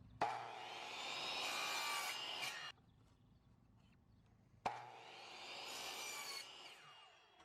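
Wood being cut to trim corners off a piece of scrap wood: two long, loud passes of rasping cutting, each a few seconds, separated by a quiet pause.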